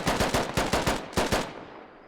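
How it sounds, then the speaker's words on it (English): Rapid bursts of automatic gunfire from an infantry firefight in the military shooter game Squad, sharp repeated shots close and loud, then a brief pause and a final burst before fading. "More shots coming in"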